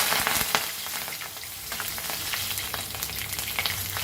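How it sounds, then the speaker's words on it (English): Curry leaves hitting hot oil for a Goan-style potato and cauliflower curry with asafoetida, giving a steady, close crackling sizzle with sharp spitting pops throughout. "Now we'll add our curry leaves"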